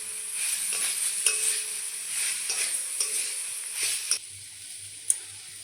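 Chili powder, cumin powder and ground spices stirred in a pan, a steady close hiss of sizzling with occasional scraping clicks of the spoon, easing off near the end.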